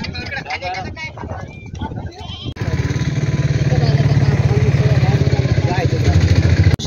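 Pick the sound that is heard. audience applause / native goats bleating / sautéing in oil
native goats bleating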